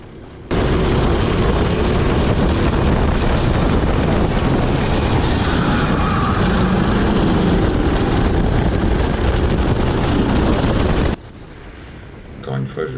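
A racing kart engine at speed during a sprint race, a loud, continuous roar mixed with wind buffeting that holds for about ten seconds and then cuts abruptly to a much quieter background.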